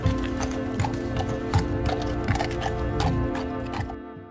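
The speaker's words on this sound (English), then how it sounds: "Check out these horses." Horses go by with steady clip-clop hoofbeats on a hard surface, moderately close, under a low outdoor rumble, with a brief whinny-like sound among the steps.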